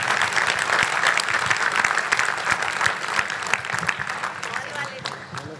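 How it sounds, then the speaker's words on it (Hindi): Loud, sustained applause from a large audience at a stage event, many hands clapping densely and evenly for several seconds before tapering slightly at the end, with some voices mixed in. "तो इनके लिए जोरदार एक बार तालियां"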